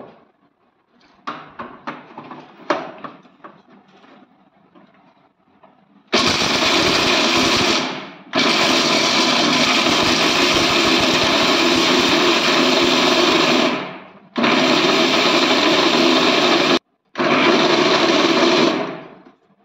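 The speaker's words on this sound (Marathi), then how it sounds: "ते आता मिक्सरमधनं हे बारीक करून घेते मी." A loud mixer grinder whirs in long continuous bursts grinding milk masala spices, stopping briefly between runs, after some light clattering at the start.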